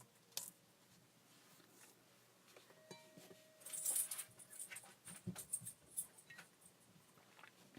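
A therapy dog stirs in the background of a quiet craft room, giving soft scattered whimpers, patters and rustles that grow busier in the second half, with no talking.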